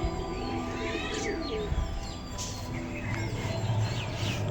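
Pigeons cooing nearby, with repeated soft coos and a few chirps over a busy outdoor background. A voice briefly comes in faintly.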